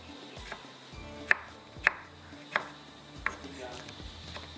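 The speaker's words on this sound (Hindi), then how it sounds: "टमाटरों को भी कटिंग करते हैं। इस तरह से आपने इसको चॉप करके डालना है।" A knife chops tomatoes on a board, about seven sharp, evenly spaced knocks with a brief ring, close and fairly quiet, with faint kitchen background.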